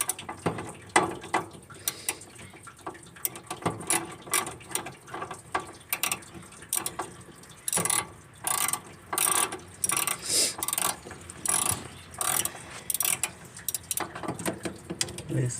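A ratchet loosens a bolt on a car radiator with quick bursts of clicking pawl, the strokes coming in irregular runs with short pauses between, close and moderately loud.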